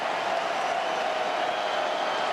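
Stadium crowd roaring continuously at an LAFC soccer match in the closing minutes, a loud, steady wash of cheering with no break.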